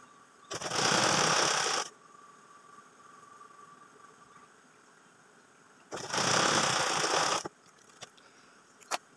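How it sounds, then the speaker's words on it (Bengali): A sewing machine stitching around the elastic waistband of a small child's pants buzzes in two loud, close bursts of rapid rattling about a second long each, with quiet pauses and small clicks between them. "আমি ঘুরিয়ে ঘুরিয়ে এইভাবে পুরো কোমরটা সেলাই করে নিচ্ছি"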